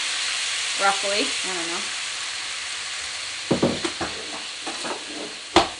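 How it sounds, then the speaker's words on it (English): Red wine hits a hot pan holding browned bits and hisses into a steady loud sizzle, with a whisk clinking and scraping against the bottom; a voice speaks briefly early on. "So I'm going to put in about a cup of red wine"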